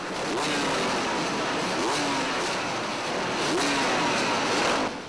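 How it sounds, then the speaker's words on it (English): A dense roar of about 800 motorcycle engines at a beach race start, loud and continuous, with rising whines sweeping through the crowd of bikes. "you've got 800 bikes going down a mile and a half straight. The noise is incredible."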